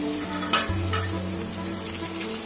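Masala paste sizzling steadily in a hot pan while a utensil stirs and scrapes through it, with a sharp clink early on, then a continuous close-up frying hiss.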